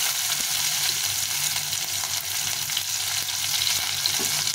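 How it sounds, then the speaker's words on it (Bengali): Onions drop into hot oil with a cumin and bay leaf tempering, filling the pan with a continuous close, loud frying sizzle and a few faint stirring knocks, with no talking. "এই পেঁয়াজটা দিয়ে দিলাম।"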